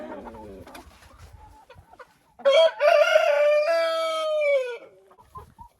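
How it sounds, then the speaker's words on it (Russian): A rooster crows once, loud and close inside a henhouse, a long strained call after a few soft clucks and shuffling sounds. "Интересно, как он кукарекает?"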